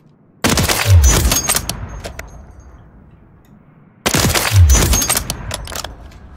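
Two loud sniper rifle shots ring out in the video game Warzone 3.0, each a sharp crack with a deep boom and a long trailing echo, about three and a half seconds apart.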